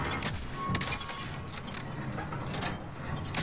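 Gunfire in Call of Duty Warzone, a few sharp bursts of shots and impacts over a busy game soundscape, moderately loud and close with no talk.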